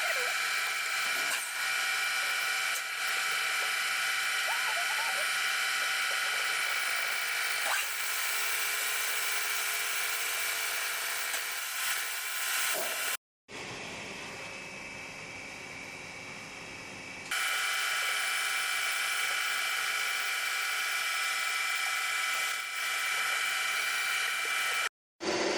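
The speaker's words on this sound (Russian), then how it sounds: "Приступает к расточке." A boring machine cutting out the cylinder head of a Suzuki DF100-140A 2.0 outboard motor, a steady high-pitched whine running continuously, dropping to a duller tone for a few seconds midway before the sharp cutting pitch returns.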